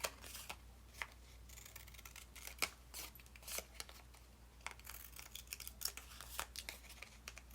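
Scissors trim excess black cardstock from a paper craft witch's leg, giving a series of faint, quick snips and light paper rustles at an irregular pace with no talking.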